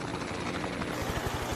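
A helicopter flies over a river barrage at Shady Camp in crocodile country, its rotor thumping in a steady, rapid rhythm as a loud, continuous engine roar fills the scene, with no voices.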